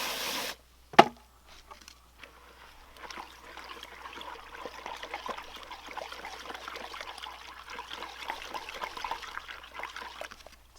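Water poured into chicken grain: a sharp knock, then a steady soft trickle and splash that continues close by in a quiet setting.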